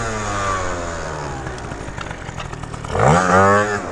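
A scooter fitted with a cheap big bore kit runs nearby with a rough, buzzing engine note that wavers unevenly, then surges into a loud, rising rev near the end.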